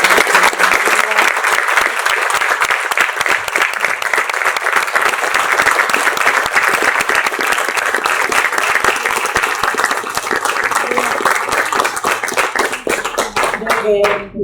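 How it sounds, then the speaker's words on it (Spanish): Loud, dense audience applause fills a room at a book talk, steady rapid clapping from many hands that continues throughout and tapers slightly at the end. "yo ante todo quisiera pedirles un aplauso para"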